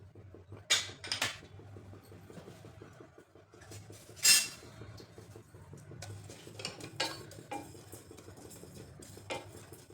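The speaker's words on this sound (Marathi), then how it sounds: "आता पॅन ठेवलं तापण्यासाठी त्यामध्ये बडीसोप घालायची" Fennel seeds dropped into a heating pan for dry roasting, with a few sharp clinks and scrapes of a utensil against the metal pan over a low steady background hum, mostly quiet between the clatters.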